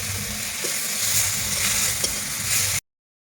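Chopped tomato frying with spices in a pan for a rohu fish curry with potato and aubergine: a continuous close sizzle with occasional stirring taps, cutting off abruptly at the end.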